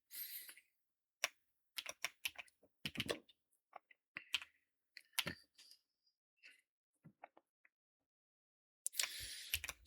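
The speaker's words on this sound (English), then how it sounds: "I'm just gonna type this out before my brain kind of runs out of energy" Fingers type on a computer keyboard in a quiet room, tapping out scattered bursts of key clicks with long silent gaps between them, crisp and close. A brief rustle comes at the start and another at the end.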